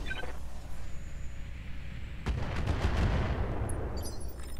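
Standard-ammo weapon fire from a mech in the Roguetech mod of BattleTech: one sharp report followed by a rumbling cluster of impacts under a steady low background hum.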